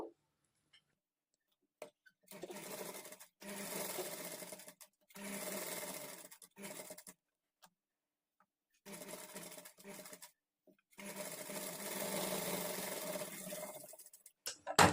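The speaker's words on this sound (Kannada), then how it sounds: "ಇದ್ರ ಮೇಲೆ ನಾವು ಡಬಲ್ ಸ್ಟಿಚ್ ಹಾಕ್ಕೊಳ್ಬೇಕು" Sewing machine runs in four separate bursts of steady stitching, double-stitching the seams of a princess cut blouse, loud and close with short quiet pauses between runs and no talking.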